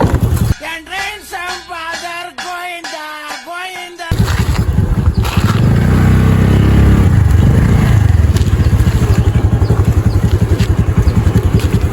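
A motor vehicle carrying grass runs with a loud, steady engine rumble and rattle that continues without a break, after a few seconds of voice or music at the start.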